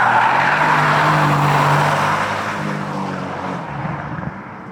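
A 2020 Mercedes-AMG C63S drifts, its engine roaring while the tires squeal and skid loudly and steadily, then the noise eases and fades somewhat toward the end, with no talking.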